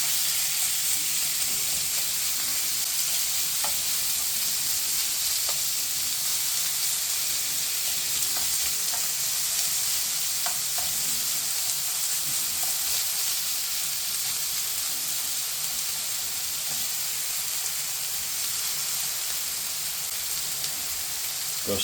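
Raw chicken stir fries in hot fat and oil, giving a continuous, even, close sizzle and hiss throughout with occasional faint ticks of stirring and no talking.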